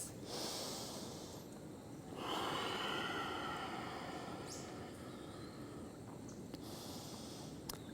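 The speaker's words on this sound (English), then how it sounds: "Ujjayi breaths." Slow Ujjayi yoga breaths taken during a seated forward fold, soft hissing inhales and exhales through the throat, quiet and close, with no talking.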